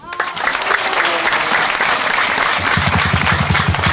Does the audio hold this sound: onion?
no